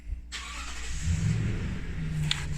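A Toyota Tundra pickup truck engine rumbles close by with a loud whooshing fan roar layered over it, steady throughout, no voices.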